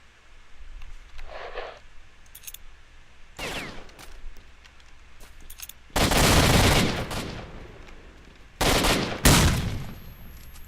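Armor-piercing rifle fire in STALKER: Shadow of Chernobyl. Loud, sharp bursts ring out in separate clusters, first a single report, then longer volleys and a pair of close blasts near the end, with quiet gaps between them.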